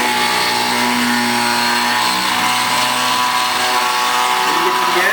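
A ski edge sharpening machine runs steadily along a ski edge from tip to tail, giving a loud, continuous whirring grind with a sustained mechanical drone throughout and no talking.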